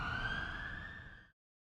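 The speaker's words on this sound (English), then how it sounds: "Don't you hear those sirens?" A police siren wails steadily for about a second before cutting off abruptly, loud and close, with low rumbling traffic beneath it.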